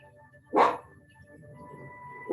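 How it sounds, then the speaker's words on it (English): Dogs barking indoors near a gentle yoga class, a single loud bark burst followed by quieter household noise and the start of another bark at the end. "I'm going to get my doggies a bone so they will stop barking."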